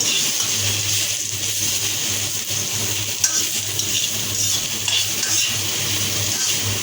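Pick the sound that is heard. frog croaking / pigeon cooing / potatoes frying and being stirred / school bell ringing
potatoes frying and being stirred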